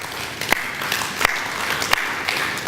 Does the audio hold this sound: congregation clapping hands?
yes